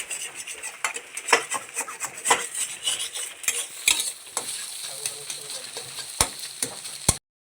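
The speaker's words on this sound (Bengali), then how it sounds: "আর এখন দেখো আমি ভালো করে নাড়ছি।" Eggs frying and being stirred in a wok with a utensil, close and loud, with rapid irregular scraping and clattering strokes over a steady sizzle, ending abruptly.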